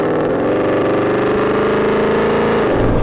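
The engine and exhaust of a Hennessey VelociRaptor 6x6 truck give a loud, steady, deep rumble with a throbbing low drone throughout, close by.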